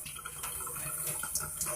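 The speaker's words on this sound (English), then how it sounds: "I'm going to get the water running." Tepid water runs steadily from a tap into a sink, a soft continuous splashing hiss with a few brighter spatters, close by and fairly quiet.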